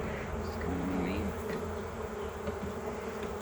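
Agitated honeybees buzzing around an opened hive being split, a dense steady drone with wavering pitch, close and continuous throughout.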